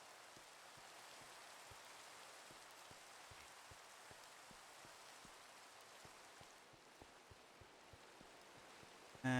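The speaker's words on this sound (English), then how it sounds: "It's raining in real life right now, too, outside." Steady rain falls outdoors as a soft, continuous hiss with scattered drips tapping on a surface, faint and even throughout.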